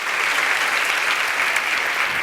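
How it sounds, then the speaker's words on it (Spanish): A church congregation bursts into sustained, dense applause, an even roar of many hands clapping together with no break and no voices. "Y dele un aplauso a Dios por las bendiciones que van a venir sobre su vida."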